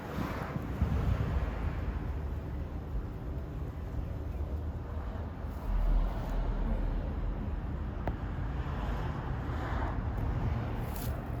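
Wind gusts across an outdoor garden growing area, a steady low rushing and buffeting on the microphone with a stronger gust around the middle and faint background hiss.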